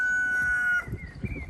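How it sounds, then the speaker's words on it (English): A cockerel crows once nearby on a walk past allotments, a sustained high call that breaks off and gives way to low outdoor rumble. "Oh, cockerel."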